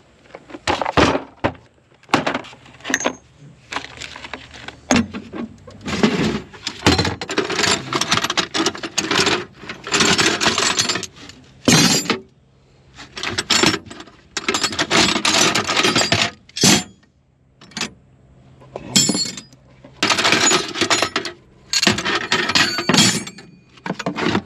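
Someone rummages through a small socket set for a 10 mm socket, producing repeated bursts of metallic clattering, rattling and scraping with brief pauses in between.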